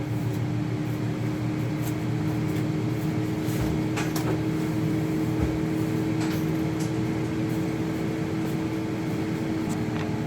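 An ULTREAN AF01 air fryer runs with a steady fan hum and drone, moderately loud and constant, with a few faint clicks and knocks nearby.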